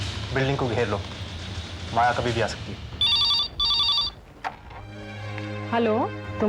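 A mobile phone rings in two short, loud bursts of electronic tone in a tense suspense drama scene. Voices speak before and after the ringing, over a low background hum.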